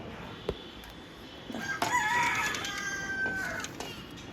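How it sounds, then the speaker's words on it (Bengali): Farm roosters crow at a distance from a small tin shed, a long cock-a-doodle-doo rising over a soft background hiss, with a few sharp knocks nearby. "এগুলো ফার্মের মোরগ, এগুলো এমনিতেই ডাকে।"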